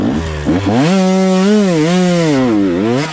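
Motocross motorcycle at full throttle in second gear during a cross-country race lap, a loud close engine whine rising and falling in pitch as it revs hard and accelerates.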